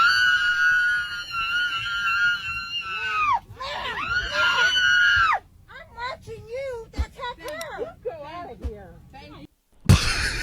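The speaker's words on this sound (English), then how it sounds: "why did she scream when someone walked past her?" A woman screams on board an airplane, a long loud sustained shriek that breaks off and returns in shorter wailing bursts, with close, agitated voices and cabin noise around it.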